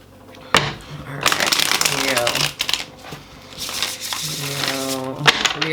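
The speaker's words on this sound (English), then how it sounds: "Shuffle these cards." Tarot cards are shuffled repeatedly with crisp riffling and snapping bursts, close up, while a voice talks softly throughout.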